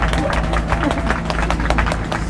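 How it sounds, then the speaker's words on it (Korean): A crowd claps and applauds at an outdoor protest rally on a cold day, dense rapid clapping spread across the whole stretch at steady loudness, with some voices mixed in. "김수진 대표님 박수해 주십시오"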